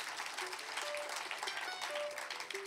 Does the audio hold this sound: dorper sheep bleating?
no